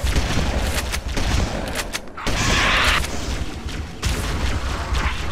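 In Halo: Combat Evolved, loud shotgun blasts and heavy gunfire boom through continuous game battle noise, with sharp breaks between bursts.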